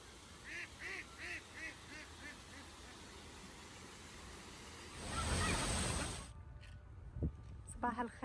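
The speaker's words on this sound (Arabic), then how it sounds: "صح دودي رح صور البط" Ducks quacking in a short series of bursts at close range during an outing in Riyadh, followed by a louder rush of wind or water and a few clattering knocks.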